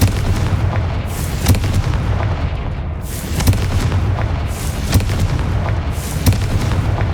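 Confringo fire spell explosions in Hogwarts Legacy, a series of booming blasts roughly every one to one and a half seconds over a dense, rumbling low background, loud and close with no talk.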